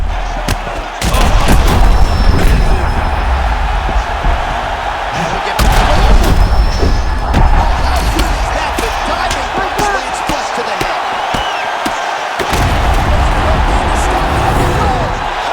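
Heavy punches landing in EA Sports UFC 6 during a Ken Shamrock fight: repeated sharp thuds and slams at an uneven pace over a steady arena crowd roar, with a commentator talking throughout.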